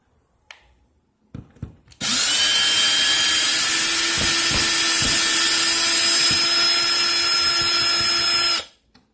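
A power drill or driver removes a screw from a smoke detector, first a few light taps and clicks, then a loud, steady high-pitched whir lasting about six seconds that stops abruptly, close by, with no talking.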